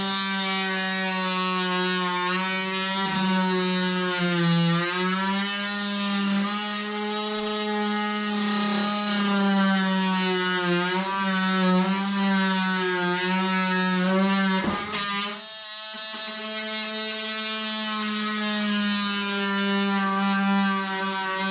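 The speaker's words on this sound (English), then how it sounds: "And then I'm going to use my bandsaw to cut inwards." A bandsaw cuts scrap wood for a planter with a sustained, steady whine that runs nearly the whole time. There's a brief dip near the end, and no talking.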